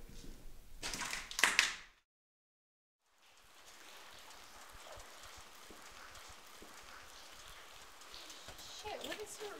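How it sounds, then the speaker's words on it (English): Rain falls in the horror game Morbis Mentis Mortis, a steady, even hiss that sets in after a short burst of noise and a moment of silence, then continues alone at moderate loudness. "why is it raining?"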